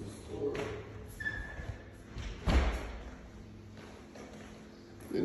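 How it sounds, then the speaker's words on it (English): A firm door thud midway through, preceded by footsteps and light handling noises, with quiet room ambience. "Close this door."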